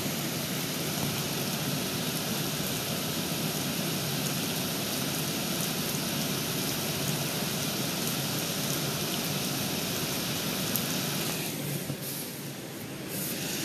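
Steady, dense rain falls during a thunderstorm in Brooklyn, New York, a constant even hiss lasting throughout and easing slightly near the end, with no voices.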